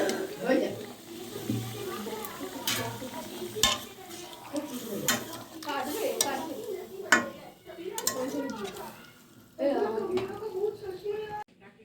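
Stirring in a pot of potato and stem curry after a little water is added, with soft scraping and clinking of a spoon against the pan and light sizzling, intermittent under ongoing talk.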